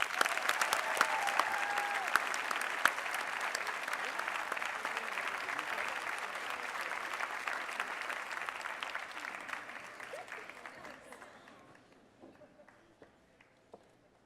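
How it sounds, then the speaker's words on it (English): Audience applause at a San Francisco State University graduate recognition ceremony in 2015, steady dense clapping from a large crowd that holds for about ten seconds, then thins and fades to near silence. "Please join me in applauding Ashley Collins."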